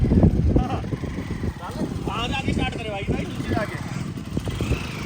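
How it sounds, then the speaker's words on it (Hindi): A Bajaj Dominar motorcycle engine running just after a hard start, its low rumble sitting under several people talking close by. "तो भाई कम से कम आधे घंटे बाद डोमिनार स्टार्ट हुई।"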